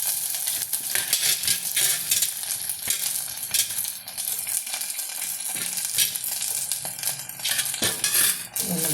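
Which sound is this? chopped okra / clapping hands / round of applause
chopped okra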